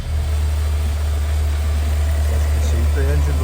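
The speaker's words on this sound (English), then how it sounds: "The engine does sound really nice. It runs smooth." A Mk3 VW Golf VR6 Highline with 183,000 miles and an upgraded exhaust idles smoothly, a steady low engine drone holding close and even throughout with no revving.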